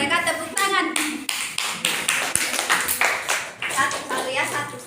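Hands clapping in a classroom micro-teaching session, with steady rapid claps of a small group under continuous speech and children's voices throughout.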